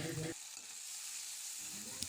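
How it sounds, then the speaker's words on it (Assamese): Fish offal frying in a pan with rice, a steady sizzle after a brief louder stir at the start, close and fairly faint with no talk. "পেটুখিনি মই ভাত দিয়ে ভাজিম"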